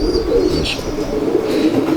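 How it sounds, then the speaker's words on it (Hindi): A domestic pigeon coos close by with low, soft rolling calls over a steady background murmur, with a brief higher chirp partway through. "यही वही कबूतर है"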